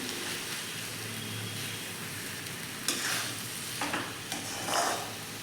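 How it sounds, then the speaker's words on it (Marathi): Boiled eggs gently stirred into a tomato masala in a pan: a continuous soft sizzle with a few brief spoon scrapes toward the end, close and fairly quiet. "आता हे अगदी हलक्या हाताने हळूवारपणे आपण मिक्स करून घ्यायचे आहे मसाल्यांमध्ये आपली अंडी"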